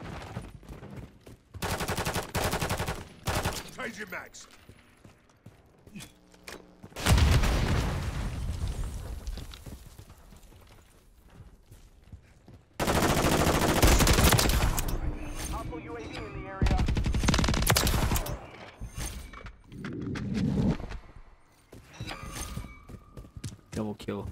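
Dense bursts of gunfire from the video game Modern Warfare III, loud sustained fusillades and automatic fire with short pauses between volleys, mixed with booms and a voice talking in between.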